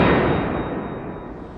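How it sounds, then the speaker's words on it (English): A single gunshot from an S.O.B. personal defense round fired at a steel target rings out as a sharp crack at the start, then decays into a fading echo. "So my first impression after shooting 1 round is they do feel a little bit underpowered"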